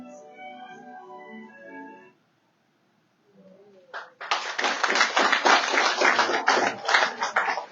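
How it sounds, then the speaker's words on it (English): Applause at a farewell dinner hosted for a Korean delegation by President Joseph N. Boakai follows brief speech and a short silence, starting with a single clap and swelling into steady, fairly close clapping from a group. "Round of applause."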